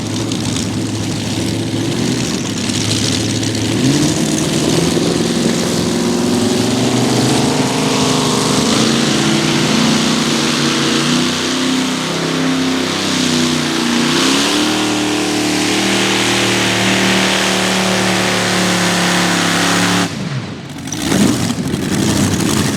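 Chevrolet-powered modified tractor pull vehicle 'Attitude Adjuster' roars loud and close, its engine revving and climbing steadily in pitch through a long pull, then cutting off abruptly near the end.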